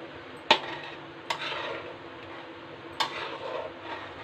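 A spoon stirring cheese and cream into a white sauce for pasta in a pan, a few sharp clinks against the pan over a soft simmering sizzle, close and fairly quiet.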